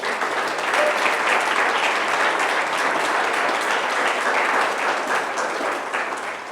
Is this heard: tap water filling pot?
no